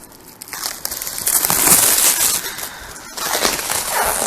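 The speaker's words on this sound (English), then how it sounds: "a lot of plastic being wasted here with all the wrappings and everything" Plastic packaging wrappings around a boxed signed scale replica helmet crinkle and rustle loudly up close during unboxing, in bursts of crumpling that swell and ease.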